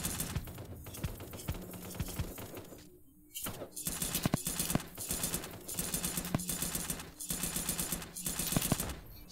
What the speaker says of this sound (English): I'm sniping everybody!